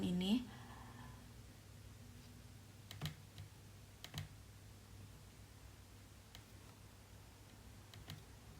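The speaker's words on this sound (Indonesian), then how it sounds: "menggunakan keyboard, yaitu dengan mengklik space" Computer keyboard typing with a spacebar press: a handful of sparse, crisp key taps spaced seconds apart, quiet and close, over faint room hum, with a brief voice at the very start.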